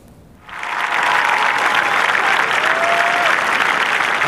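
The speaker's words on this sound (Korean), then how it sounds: "갤러리에 환호가 터져 나옵니다" A golf gallery breaks into loud applause and cheering as the player approaches the 18th green at the US Women's Open, erupting suddenly after a quiet moment and holding steady as a dense crowd roar, with a whistle rising above it.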